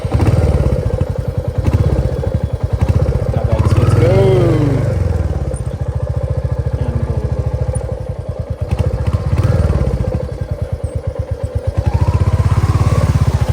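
A motorcycle riding on a road in Nepal, its engine a steady close thrumming putter with rising and falling revs and occasional clattering bumps, while a person talks over it at times.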